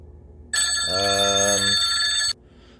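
An incoming call sets a telephone ringing with one loud, sustained electronic trill lasting almost two seconds, clear and close over a quiet background.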